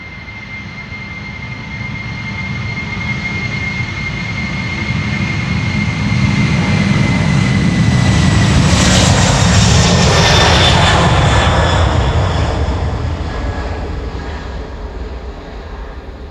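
A 21-year-old CKC Boeing 747 cargo jet bound for Dubai takes off from Schiphol's Polderbaan runway 36L, its heavy engine roar swelling to a loud, close peak, then easing slightly as it climbs away.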